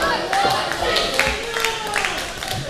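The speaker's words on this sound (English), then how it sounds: "And they're already clapping for me" An audience claps steadily at an independent wrestling show, a dense, close patter of hands over crowd noise with a commentator talking throughout.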